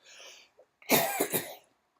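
A soft exhale, then a sharp, close cough that breaks into two or three rough bursts before fading out.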